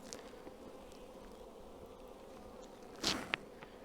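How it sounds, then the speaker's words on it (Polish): Honeybees drone in a steady, faint hum around a beehive with honey supers, and a single louder buzz passes close by near the end. "pszczoł jest sporo"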